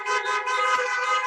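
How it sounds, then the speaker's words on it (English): Several car horns honk at once at an outdoor Hanukkah candle lighting, layered sustained toots that overlap and swell, loud and steady, with no talking. "go ahead and honk your horn."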